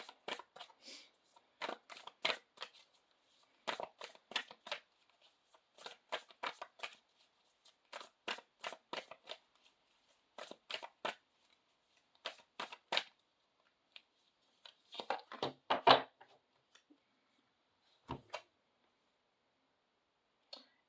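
A deck of self-care wisdom cards being shuffled by hand, with quick riffling bursts repeated in short irregular runs, close and fairly quiet against silent gaps.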